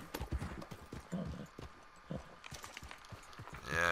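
Horse hooves clip-clop steadily in Red Dead Redemption 2 as someone talks over them about feeding his tired horse, the footfalls close and fairly loud.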